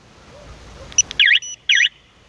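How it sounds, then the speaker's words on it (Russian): An X-MEN X999 two-way alarm on a Lifan LF150-2E motorcycle being disarmed, giving two short warbling electronic beeps after a few faint clicks and chirps, clear and close in a quiet setting. "Это я только что отключил сигнализацию и подалось 2 коротких звука"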